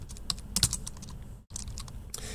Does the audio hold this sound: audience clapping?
no